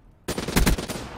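Rapid bursts of video game gunfire during a competitive Search and Destroy match, loud and close, a dense volley of shots after a brief quiet start.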